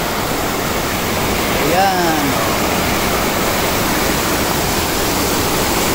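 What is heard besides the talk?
waterfall at Danum Resort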